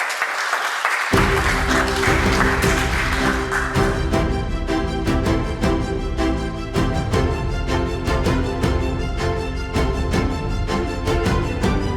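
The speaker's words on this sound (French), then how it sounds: "On s'applaudit." After a brief quiet start, a crowd at the 2025 Étienne-Chartier awards ceremony breaks into sustained, loud applause that continues densely to the end, with what sounds like steady rhythmic accents running through it.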